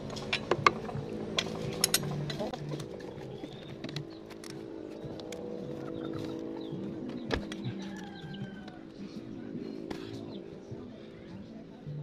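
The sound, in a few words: ratchet wrench loosening 12mm oil drain bolt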